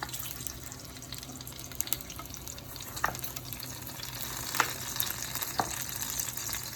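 Onion and tomatoes frying in a pot for pork ribs with squash give a continuous soft sizzle with scattered crackles and a few sharper pops, steady throughout.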